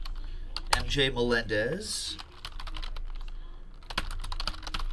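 Quick clattering keystrokes tap out on a computer keyboard in bursts, close by, while a voice speaks briefly over the start.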